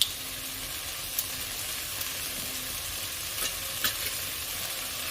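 Garlic cloves frying in a pan, giving a steady soft sizzle with a few faint clicks of a utensil.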